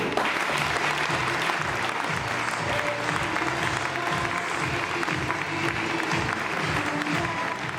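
Sustained applause from an audience at a business event, dense continuous clapping filling the room from start to finish.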